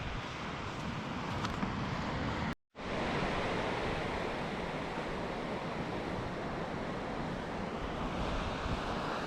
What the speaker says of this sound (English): the sound of the waves just rolling in there on the sand